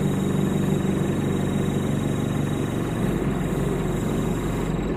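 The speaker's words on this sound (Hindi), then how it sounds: "अभी आपको बूम ऊपर ऊपर उठा के दिखाते हैं, ये देखिए अभी इसकी ये स्पीड है बिल्कुल आइडियलिंग पे" A Terex TLB 740s backhoe loader's diesel engine idles steadily up close while the boom is raised, giving a continuous low rumble with a hydraulic hum and no talking.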